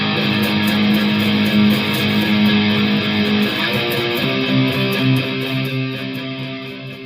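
Sustained, heavily distorted electric guitar chords ring out loudly, shifting between a few chord changes with no voices.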